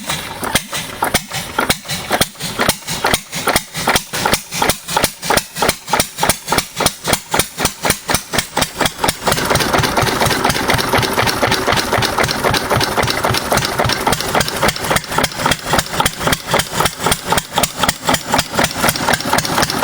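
A 6 HP Witte diesel engine starts and runs, firing in sharp, regular knocking beats. The beats begin spaced apart, then speed into a loud, dense, steady rhythm close by.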